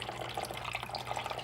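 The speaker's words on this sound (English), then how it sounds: "Coolant's coming out. It's the Toyota pink stuff." Pink Toyota coolant drains from a car engine as a steady, fluid trickle and splatter that runs continuously through the short moment, close and moderately loud.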